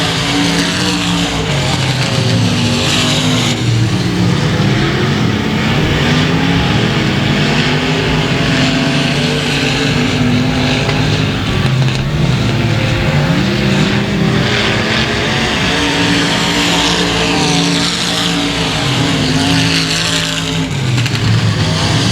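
Sport Mod race cars roar around a dirt oval track during a racing event, several engines droning and revving together, loud and continuous with passing surges and no talk.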